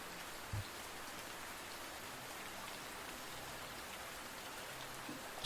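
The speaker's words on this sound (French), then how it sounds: "Suivez à présent une nouvelle goutte de pluie qui tombe cette fois au milieu d'une forêt." Steady rain falling in a forest, a dense even patter of drops on leaves and ground with one brief louder drop near the start, continuous and close, no voices.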